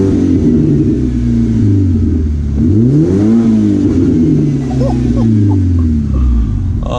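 A BMW 1 Series E88 120i M Sport with a quad exhaust revs loudly nearby in an industrial estate, its engine note climbing and falling in a sweeping rev over steady rumble, with a voice speaking over it.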